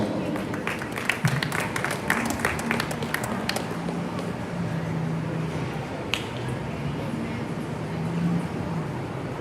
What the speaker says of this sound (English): Let's make sure we congratulate each one of them with a round of applause.